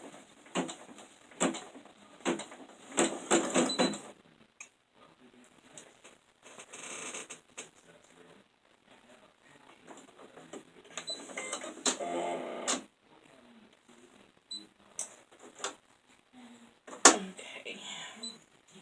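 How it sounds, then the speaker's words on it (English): An embroidery machine sews a placement stitch for a carrot design on an in-the-hoop Easter table runner, giving a fast, light mechanical patter and whirr that starts and stops while someone talks over it. "now we're fixing to get ready to do the placement stitch of the carrot"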